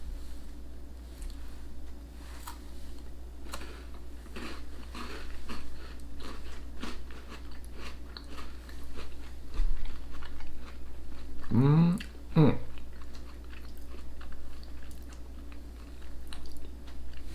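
Someone bites into a McVitie's Victoria milk chocolate oat biscuit and chews it up close, with soft crunches and mouth sounds running for several seconds, while voices murmur in the background.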